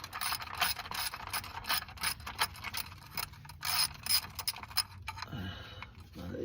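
A ratchet working the oil pan bolts loose on a 2003 Mitsubishi Lancer, with rapid, close clicking that keeps going in uneven bursts, short pauses between strokes and a faint clunk near the end.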